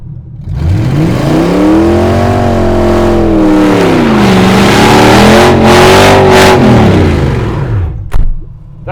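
A GAZ-24 Volga fitted with a V8 engine revs hard on snow, its deep roar climbing and falling through several long sustained pulls, loud and close, then a brief sharp burst near the end.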